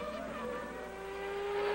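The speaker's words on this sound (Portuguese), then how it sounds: "Aí o carro de Gerhard Berger" A Formula 1 race car engine at the French Grand Prix holds a high, sustained whine, its pitch climbing slightly as the car passes, loud and close with no voices.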